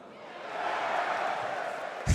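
A darts crowd at the European Darts Trophy final swells in a broad, loud murmur of reaction to a throw, with a sharp thud at the very end.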